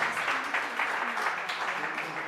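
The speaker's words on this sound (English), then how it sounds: "maybe small applause for Martha" Brief applause from a small audience at a tech meetup, a dense, even wash of clapping at moderate volume that continues steadily without speech over it.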